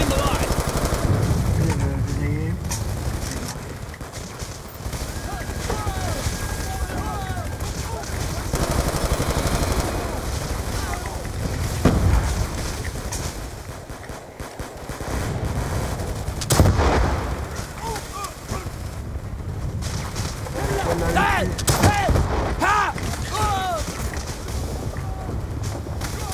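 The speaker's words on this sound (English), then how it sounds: "We're receiving heavy fire from its minigun." Heavy minigun fire in Call of Duty Black Ops 2, sustained bursts of rapid gunfire and booms rolling through the scene amid wind-like noise, with voices talking over it at times.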